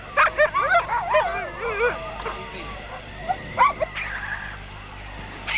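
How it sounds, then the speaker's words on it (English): Sled dogs in Antarctica bark, yip and whimper close by in a rapid, overlapping run of whines and sharp calls, with a few further yelps after a brief lull. "Lovely dogs."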